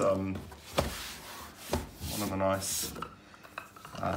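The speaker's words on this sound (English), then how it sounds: "It's a really perfect straight rolling pin." A straight rolling pin rolls out homemade fondant for covering a cake, giving soft repeated rubbing and scraping strokes in a hot kitchen, partly under a speaking voice.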